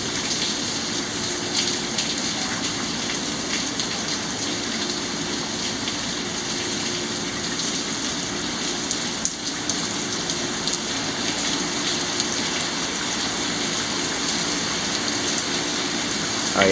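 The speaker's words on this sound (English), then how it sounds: "Oh yeah, the rain's starting to pick back up again," Heavy rain falls steadily during a Corpus Christi, Texas thunderstorm, a dense continuous patter and hiss on surfaces at an even, fairly loud level.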